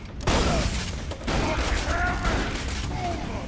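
A shotgun in Borderlands 2 fires in loud, close blasts amid a busy, noisy firefight, with chaotic combat sounds layered throughout.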